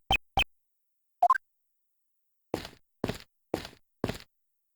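Footsteps in the video game Ace Attorney Investigations 2: Prosecutor's Path, heard as four evenly spaced, crisp game-sound steps after a few short clicks, alone against silence.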